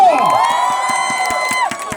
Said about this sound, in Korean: 응원의 박수!